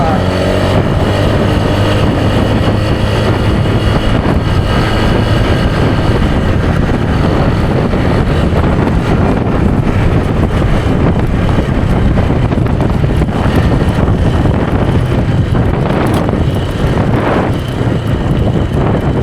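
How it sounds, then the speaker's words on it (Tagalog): Strong, steady wind buffets the microphone at the side of a fishing pier with a constant low roar throughout, loud and unbroken, with no talking. "Malakas yung hangin."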